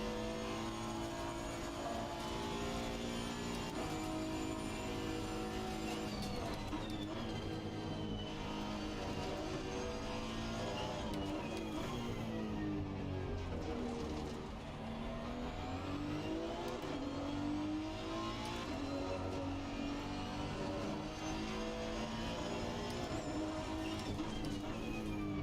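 A race car in Assetto Corsa Competizione revs hard throughout, its engine note climbing and dropping through gear changes and throttle lifts, loud and continuous with a brief dip midway.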